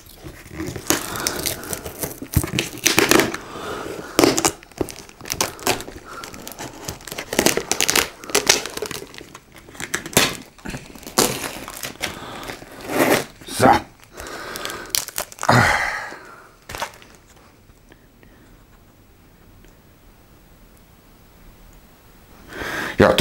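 A gift package sealed with black tape being unwrapped: dense crinkling, tearing and crunching of packaging in close, irregular bursts for about sixteen seconds, then near silence with faint handling.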